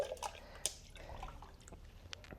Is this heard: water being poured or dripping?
yes